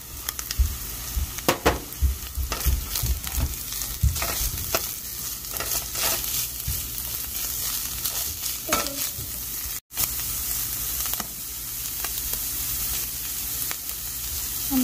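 Chicken pieces fry in a hot pan, sizzling continuously while a spoon stirs and scrapes with irregular clatters, close and fairly loud, with no talking.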